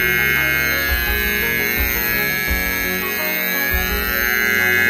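Continuous buzzer on a solder bath machine, a loud, steady tone sounding without a break, with lower machine noise rumbling beneath it.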